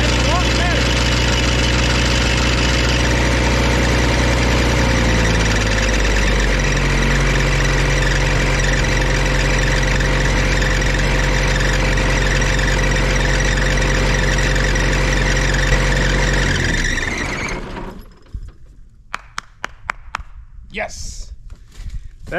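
A repaired engine-driven welder generator runs steadily and loudly at a smooth, even idle for about seventeen seconds, then shuts down and winds off, leaving a few clicks and clunks afterward.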